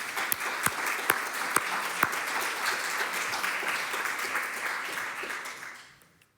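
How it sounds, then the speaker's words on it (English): Audience applause at an anniversary symposium, a steady dense wash of many hands clapping with a few sharper claps standing out near the front, sustained for about six seconds before fading away. "And I would like to have an applause for you."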